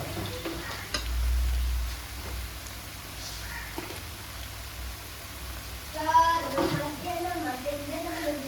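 Coconut oil poured into a pan of nearly finished beef fry, with sizzling and stirring scrapes rising near the end after a quieter stretch; a low thump sounds early on.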